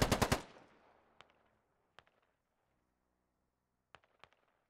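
Heavy gunfire in a military video game: a loud rapid burst of several shots up front, followed by scattered single distant shots with quiet gaps between them.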